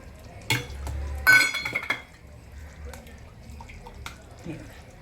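A steel mixer jar is rinsed and handled at a kitchen sink, with a sharp clank, rattling knocks and water sloshing up close, and someone talking between the sounds.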